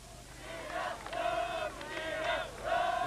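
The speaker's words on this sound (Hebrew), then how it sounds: "קהל קטן אבל מאוד עליז, רובו אוהדים של נבחרת רומניה" A small, cheerful crowd of mostly Romania fans sings and chants in rising waves at Haifa's Kiryat Eliezer stadium before a 1990 Romania versus Israel football match, heard from a distance across the stands.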